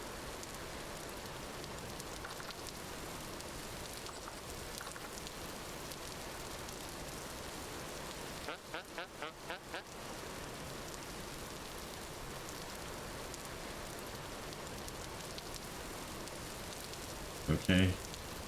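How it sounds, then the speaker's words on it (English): Heavy rain in a video game hisses steadily and evenly throughout, a dense broadband wash with a brief fluttering patch midway and a short louder knock near the end. "Oh, heavy rain."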